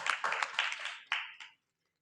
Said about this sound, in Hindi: गुड़िया के लिए तालियां तो बनती है।